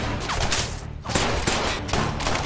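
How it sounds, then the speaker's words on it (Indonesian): Film gunfire during a prison shootout, several loud sharp bursts of shots in rapid succession with brief gaps between them, close and dense with echoing tails. "Mereka mengejarnya, tembak-menembak terjadi."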